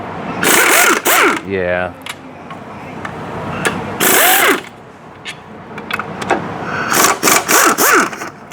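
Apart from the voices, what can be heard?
impact gun removing transmission bolts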